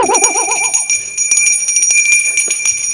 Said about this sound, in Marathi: चल रे बेल दे बेल दे